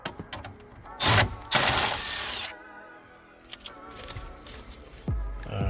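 A power tool spins out the 10 mm bolts holding a Chevy Captiva radio, with short whirring bursts of a drill or ratchet driver, close and loud, separated by brief pauses and handling noise.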